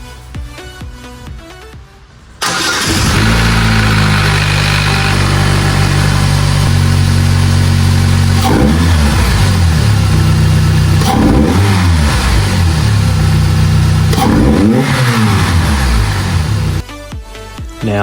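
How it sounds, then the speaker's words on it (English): A Holden Astra engine fitted with a wrapped cold air intake cranks and catches after a couple of seconds, then runs loud and close with several sharp revs rising and falling before settling back. "let's start the car up and see how she sounds."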